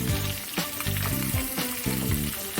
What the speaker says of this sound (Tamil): வெங்காயம் போட்டாச்சு. வெங்காயத்தை வதக்க போறியா?